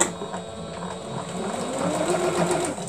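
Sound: serger sewing machine stitching a shirt

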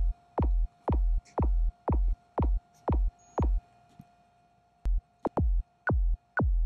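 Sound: synthesized kick drum with pitch LFO in Xfer Serum

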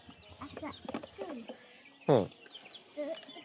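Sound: chickens clucking while being fed

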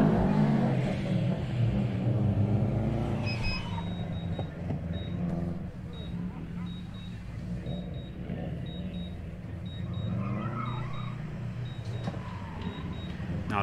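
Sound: Subaru car driving a gymkhana course

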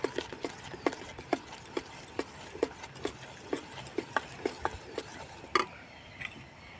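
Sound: stirring and mixing homemade neem soap mixture

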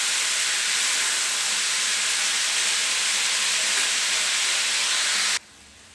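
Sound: peas sizzling while being stirred and fried in a pan

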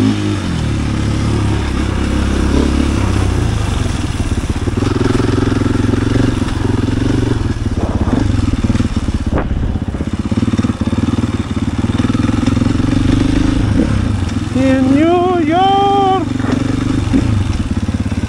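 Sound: KTM EXC-F 500 2022 enduro motorcycle riding

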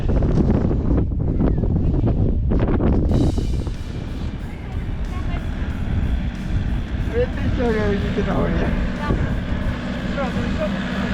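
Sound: strong wind on microphone

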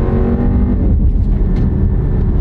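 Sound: car accelerating as the turbo kicks in

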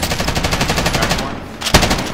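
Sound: gunfire in the video game Call of Duty Warzone

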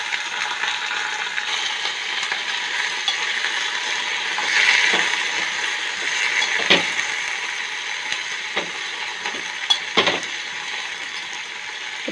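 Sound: sautéing garlic, dried red chilies and mint in a pan

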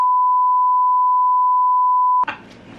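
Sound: censor beep sound effect

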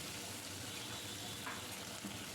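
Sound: dried fish (shutki) frying in oil

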